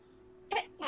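A single short sneeze bursts out near the mic against a quiet room at breakfast, followed right after by the start of another burst.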